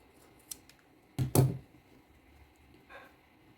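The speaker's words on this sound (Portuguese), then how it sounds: "E vou cortar com ele dobrado assim." Scissors cutting through folded fabric for a bag bow and tag, a few close crisp snips and a loud dense crunching cut in the middle, followed by a faint rustle, otherwise quiet and without speech.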